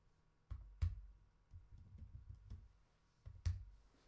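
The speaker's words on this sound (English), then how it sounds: "I'm going to type that." Typing on a computer keyboard during a Linux desktop session: a few separate clusters of quiet keystrokes and clicks, close by and soft, with short pauses between bursts and no talking.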